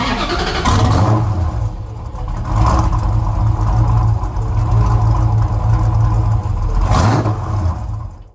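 A 5.7 liter Hemi V8 on a boat cranks, fires and revs loudly, with sharp throttle blips standing out over a steady rumbling idle and a brief spoken word near the start.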